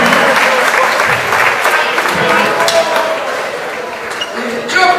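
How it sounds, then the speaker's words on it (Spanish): Loud audience applause fills a rock concert venue at La Ferrere, with dense sustained clapping and crowd noise throughout and a brief swell near the end. "aplauso para la gente de La Ferrere, que fue solidaria"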